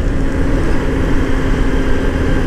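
Hero Hunk 150R motorcycle engine running steadily at 5,000 rpm in fourth gear, a loud, continuous droning hum with constant pitch and no pauses.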